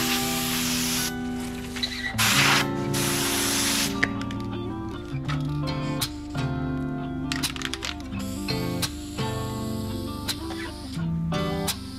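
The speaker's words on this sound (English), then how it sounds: "Nothing too fancy here, just a rattle can." A rattle can sprays paint onto taped-off door metal on an old cedar door, short hissing bursts close by heard against musical backing.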